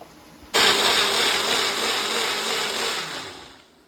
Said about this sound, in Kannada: ಇದು ಪಾಲಕ್ ಸೊಪ್ಪು ನಾನು ಅದೇ ಜಾರ್ಗೆ ಹಾಕಿ ರುಬ್ಕೊಳ್ತೀನಿ